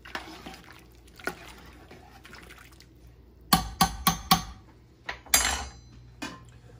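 A utensil stirs chopped peppers and celery into a cooking pot, giving several sharp metallic clacks and scrapes in a quick cluster, with a watery slosh beneath and softer knocks before and after.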